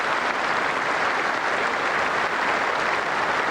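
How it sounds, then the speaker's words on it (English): A big cricket crowd gives a standing ovation at a 2002 England versus Sri Lanka Test match, dense continuous clapping that stays loud and even throughout. "Standing applause from this big audience out there"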